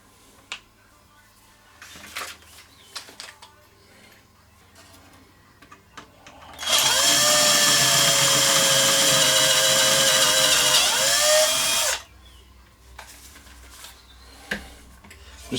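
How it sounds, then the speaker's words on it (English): A power drill bores a larger hole for a mounting screw while building a homebrew 7 MHz transceiver, one steady loud whine of about five seconds with a slight pitch drop at the end, set between quiet handling clicks. "So I now need to drill a bigger hole because it obviously needs a bigger mounting screw"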